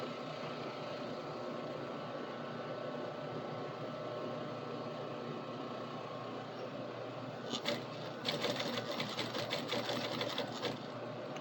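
A sewing machine runs steadily as it topstitches along a fabric edge, a close continuous whir with faster clattering bursts near the end.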